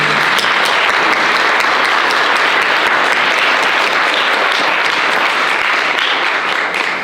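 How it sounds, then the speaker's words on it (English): Sustained applause from an audience, a dense, steady wash of clapping that carries at an even loudness for several seconds with no voices over it. "Let's applaud them."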